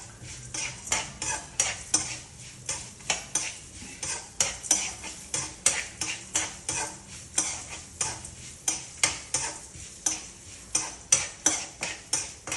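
Tamarind and cut orange peel stirred in a pan, a long run of rhythmic scraping strokes with a spoon knocking the pan roughly twice a second, close and steady over a faint sizzle, with no talking.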